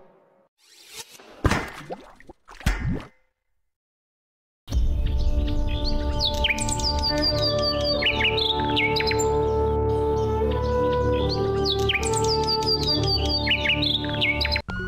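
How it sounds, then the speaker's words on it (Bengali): A crow calling from a tree in front of an old thatched hut in a village at dusk, with repeated bird calls over a continuous tonal background after a few brief thuds and a pause. "ঘরের সামনের গাছে কাক ডাকছে"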